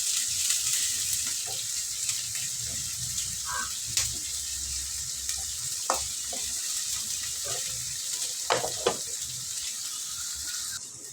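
Chopped shallots and green chillies frying in hot oil with mustard seeds, a steady close sizzle with occasional pops and spatters, no talking.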